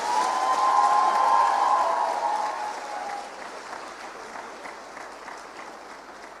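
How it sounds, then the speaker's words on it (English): Loud applause and cheering from a large audience at a public event swells early, then gradually thins and fades as the clapping tapers off, with a brief raised cheer near the start. "I think she deserves our loudest round of applause."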